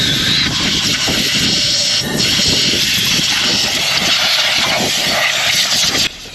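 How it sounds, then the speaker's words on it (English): A compressed air line blasts moisture out of a saltwater-soaked two-stroke outboard dinghy engine, making a loud, continuous roaring hiss close by that cuts out briefly around two seconds and again just before the end. "so we can blow out and blow the moisture out"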